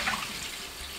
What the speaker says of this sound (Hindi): ये 1 लीटर पानी और है, ये शामिल कर देंगे